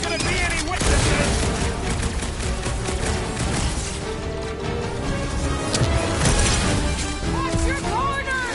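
Chaotic battle in Guardians of the Galaxy on PS5, with bursts of gunfire, impacts and crashes piling up over a loud game score while characters shout over the din.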